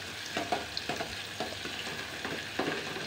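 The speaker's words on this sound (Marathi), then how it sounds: "मगाशी जो बारीक चिरलेला कांदा होता तो। तर आपण हे छान असं भाजून घेऊया।" Finely chopped onions roast and sizzle in a hot pan, with repeated scraping and stirring strokes over a steady frying hiss; no talking.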